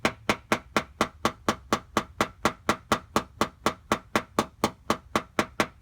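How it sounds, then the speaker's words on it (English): A small paintless dent repair hammer tapping out a dent in a crashed car's panel, about twenty evenly spaced, sharp metallic taps ringing with a high ting at a steady rhythm, close and clear. "You can hear the sound pitch change as I move the hammer around"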